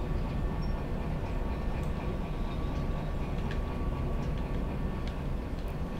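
A long freight train pulled by two locomotives rolls along in the Derail Valley game, giving a steady, dense low rumble with faint rhythmic clicking from wheels and wagons, continuous and fairly near throughout.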